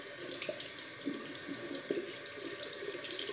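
Cold water runs steadily from a bathroom tap during a wet shave rinse, a close, continuous splashing stream into the sink with no speech.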